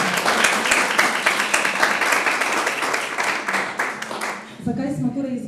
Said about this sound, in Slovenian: dajmo en aplavz